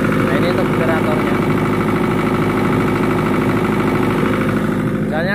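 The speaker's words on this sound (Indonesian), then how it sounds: "Nah ini untuk generatornya." A generator of roughly 40 kVA runs at a steady, loud, even drone throughout, with someone talking over the hum.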